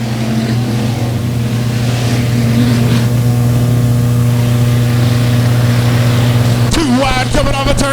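Factory stock race cars roar through a heat race at Buffalo Creek Speedway, a loud sustained engine drone near and constant, rising into sharper revving, pitch-sweeping passes near the end.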